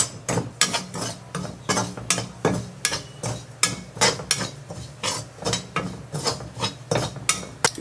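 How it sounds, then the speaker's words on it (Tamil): Onions frying in a pan are stirred continuously, giving a steady rhythm of loud, close metallic scrapes and clinks of a spatula against the pan, with no talk. "அதனால் கைவிடாமல் இதை பரட்டி விட்டுட்டே இருக்கணும்"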